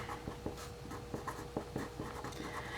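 Pen scratching across birthday cards while relatives' names are filled in, a soft scratchy stroke sound with small taps, quiet and close, with faint background noise and no talking.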